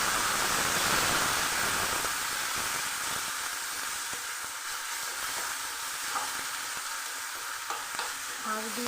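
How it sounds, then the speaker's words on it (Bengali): Boiled shushni greens are stirred and fried in a pan with garlic, onion and dried chilli, giving a loud, steady sizzle and hiss up close with scraping stirs that ease slightly toward the end. "শাক দিয়ে আমি 2 মিনিট ভালো করে নাড়িয়ে নেব।"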